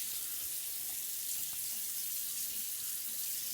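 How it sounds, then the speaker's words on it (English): Tap water runs steadily into a sink while someone rinses off their face after shaving, a continuous close hiss with no talking. "Now you do want to rinse it off."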